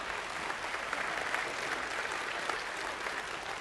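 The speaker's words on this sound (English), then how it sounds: "Give yourselves a big round of applause." A keynote audience claps for themselves in a dense, even wash of applause from a large crowd, heard at a moderate distance without a break.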